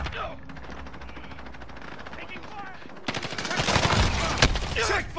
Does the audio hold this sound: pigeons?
no